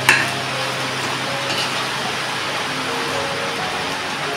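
Large-cut potatoes for vada pav filling sauté in a pan with a soft, steady sizzle and faint stirring, after a brief clatter at the start, with no voices.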